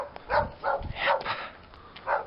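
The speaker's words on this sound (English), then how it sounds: "They came all the way on the other side just to bark at me." Several dogs bark in a quick run of four or five sharp barks close by, some yelping higher, with no talking.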